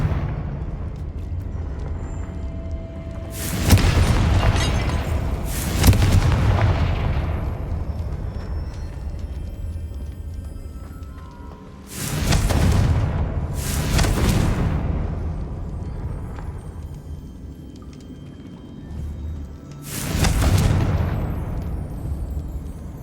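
Confringo spell explosions in the video game Hogwarts Legacy, several loud booming blasts in separated pairs, each with a heavy rumbling tail that fades slowly.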